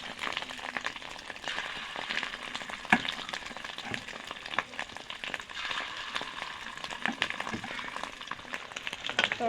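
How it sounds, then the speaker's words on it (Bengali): Fish roe fries Bengali style in a pan, a quiet continuous oily sizzle with scattered small crackles and pops, while the pieces are slowly turned over; no one speaks. "মাছের ডিমগুলো এক সাইড পুরো ভাজা হয়ে গেছে, এখন ধীরে ধীরে আরেক সাইড উল্টে দিচ্ছি।"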